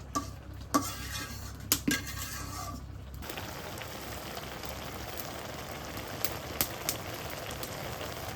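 Taro leaves stir-fried in a pan for a shrimp curry, a soft continuous sizzle with scattered sharp clinks of a spatula or utensil against the pan, the first few seconds busier with a low rumble.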